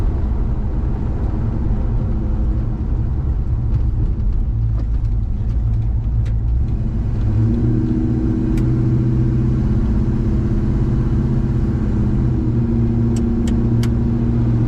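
Steady engine hum and road rumble from a 1968 Chevrolet C10 pickup truck cruising at highway speed, continuous and loud, with a slight rise in engine tone midway.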